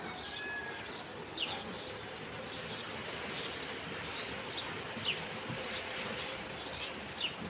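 A steady, low hum of honey bees swarming around an opened beehive during frame inspection, with soft scattered buzzing and a few faint higher chirps over a continuous background drone.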